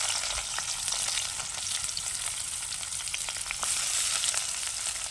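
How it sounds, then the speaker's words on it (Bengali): Steady, bright sizzling of chopped raw onions frying in hot oil, close and continuous, with occasional small crackles and pops throughout; no voices. "এবার আমি কাঁচা পেঁয়াজগুলো দিয়ে দেবো এই যে কুচনো পেঁয়াজ"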